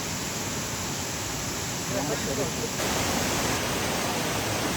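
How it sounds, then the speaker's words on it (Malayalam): A forest waterfall on the Agasthyakoodam trek in the Western Ghats roars as a steady, dense rush of falling water, with a voice faintly audible beneath the noise. "കാട്ടിനകത്തുള്ള വെള്ളച്ചാട്ടമാണ്."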